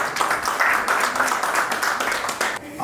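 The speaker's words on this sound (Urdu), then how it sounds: "ان کے لیے پلیز تالیاں" An audience applauds a guest at a Pak American Society event, loud, dense clapping from a crowd that carries on for a few seconds and then starts to thin out.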